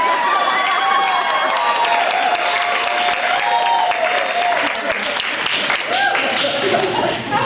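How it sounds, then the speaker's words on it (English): Wedding reception guests clap, cheer, hoot and shout in a loud, sustained burst of applause and whoops that fills the room for several seconds, with voices hollering throughout. "For the ladies in the room, I now invite you to hoot, holler, clap, and shout"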